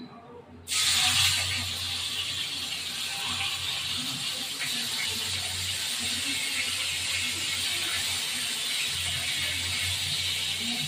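Fish drops into hot oil in a pan and erupts into a loud, steady sizzle and hiss that carries on without a break, with faint low bubbling underneath.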